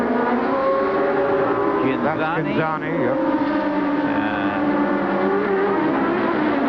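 A Formula One car at the 1988 German Grand Prix screams past with a rising then falling engine whine over the steady drone of other race cars. A commentator talks throughout.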